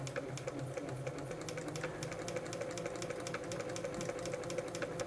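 A Bernina 930 Record electronic sewing machine runs steadily on a long basting stitch, its fast, even mechanical chatter continuous and close, with faint periodic ticks from the stitch mechanism.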